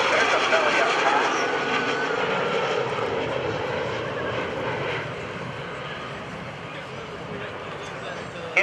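A McDonnell Douglas A-4 Skyhawk turbojet aircraft roars past at an airshow, loud at first, then its broad whooshing engine noise slowly fades into the distance.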